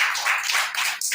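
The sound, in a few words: congregation clapping during a sermon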